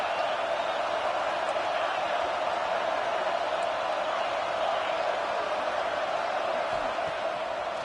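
Stadium crowd at a Clemson football game roaring steadily in support of the defense on a big third down, a dense continuous wash of cheering with no pauses throughout.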